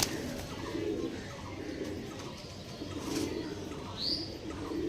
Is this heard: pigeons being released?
yes